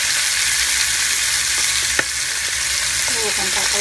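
Garlic sizzles loudly and steadily in hot oil in a pan while pork humba cooks, a close, dense hiss with a single sharp tap and a few faint pops near the end.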